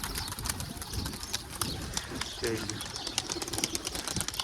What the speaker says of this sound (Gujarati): કબૂતર નીકળી ગયા